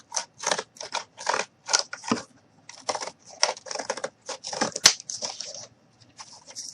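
Scissors snipping off excess cardboard on a small handmade cardboard freezer model, a run of crisp, close, irregular cuts with brief pauses between them.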